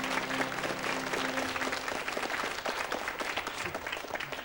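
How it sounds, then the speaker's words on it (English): Studio audience applauding at a children's science show after a demonstration of a flying toy autogyro, steady dense clapping throughout, moderately loud and close, with no talking over it. "give him a round of applause"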